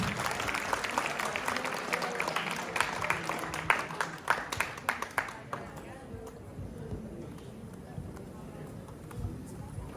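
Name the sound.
audience applauding loudly after a drama performance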